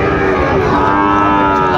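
A Sahiwal bull calf moos in long, drawn-out bellows, loud and close, with a busy crowd murmuring faintly behind it at a cattle market in Dinajpur.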